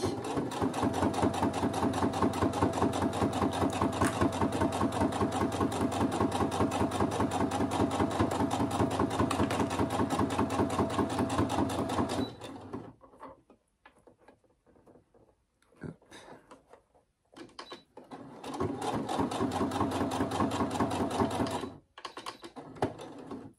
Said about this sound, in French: Là, je pique mon aiguille. Je tourne et je suis reparti.